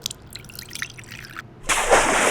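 Canola oil poured into a mixing bowl for soft pretzel dough, a steady liquid pour that begins about two-thirds of the way through and runs loud and close to the end, after some quieter handling noises.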